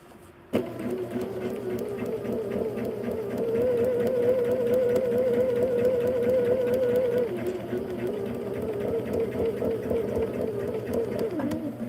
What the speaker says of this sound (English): we're sewing on our leave-in foundations